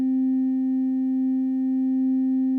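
A steady, pure electronic tone from a MiniBrute synthesizer oscillator being tuned holds one pitch throughout, with faint regular clicks beneath it. It is loud and sounds alone.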